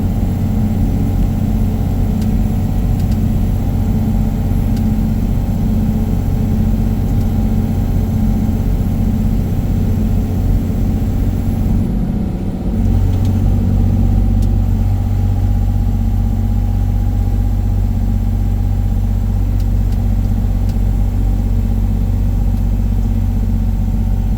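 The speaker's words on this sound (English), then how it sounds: "I've got the Jake brake on right now. The truck's not even working hard." A heavy semi truck rolls down a long Arizona grade on I-17 with its Jake brake engaged, producing a steady, close, low diesel drone that continues throughout, with one brief dip near the middle.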